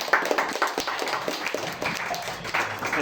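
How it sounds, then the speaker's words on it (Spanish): Church congregation giving a round of applause, uneven scattered clapping of moderate loudness with some faint voices underneath. "Un aplauso para todos."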